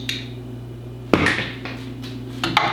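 A socket wrench tightening a 9/16 bolt while mounting a Whelen Vortex light bar, heard as a sharp metallic clank followed by a few lighter clicks and taps over a steady low electrical hum.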